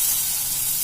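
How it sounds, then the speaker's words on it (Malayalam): Hot oil with popped mustard seeds is poured into a papaya curry, giving a brief, loud, steady hiss and sizzle up close. "ഈ കടുക് പൊട്ടിച്ചിട്ട് താളിച്ചൊഴിക്കുകയാണ്"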